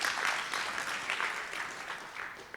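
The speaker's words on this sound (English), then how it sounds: "Clap it up for them." Audience applause for three young girls who sold out their soap inventory, a dense steady wash of many hands clapping, moderately loud and continuous throughout with faint voices mixed in.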